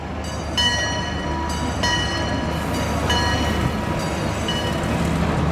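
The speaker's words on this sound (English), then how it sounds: "one thing I've never done here is the train." An amusement park train ride at Six Flags Over Georgia rumbles along steadily while its horn sounds in several loud, tonal blasts, with no talk over it.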